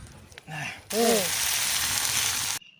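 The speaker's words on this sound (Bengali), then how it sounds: "মাছগুলো ভাজা হচ্ছে গাইস" Fish frying on salt under the sun's heat, with no fire, gives a steady soft sizzle lasting a couple of seconds. A short voice sound comes just before it.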